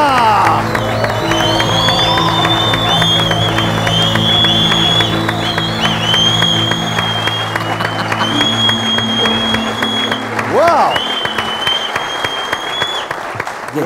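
Studio audience on a TV talk show bursts into sustained loud applause with cheers and whoops as a popular singer makes a surprise entrance, clapping dense and continuous, thinning slightly near the end.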